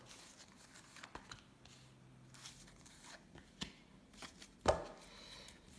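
A deck of tarot cards being cut by hand during a reading: a few soft, quiet papery taps and slaps spread over a few seconds, with one sharper snap near the end, in a hushed room.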